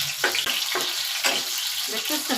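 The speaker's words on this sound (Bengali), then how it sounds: "একুট উকুট করে মরিচটা ভাজতেছি" Chillies sizzle and crackle in hot oil in a pan while being stirred, the frying hiss steady with repeated scraping strokes of the spatula at close range.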